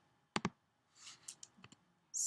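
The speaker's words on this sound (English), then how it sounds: "clicking on the navigation bar with the pointer tool." A computer mouse clicking on a navigation bar: a quick double click up close, then a few faint soft clicks and light rustles, quiet and sparse, with no talk.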